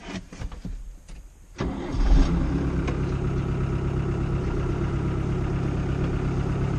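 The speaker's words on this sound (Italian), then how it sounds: "Bene, adesso accendo il trattore." A Fiatagri 88-94 Turbo DT tractor diesel engine cranks and catches after a quiet start, then settles into a steady, loud low idle that runs on without talk.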